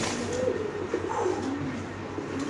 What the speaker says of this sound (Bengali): এখানে আছে এক পেয়ার নাসেল ট্রাফ কবুতর লাল গিয়ারের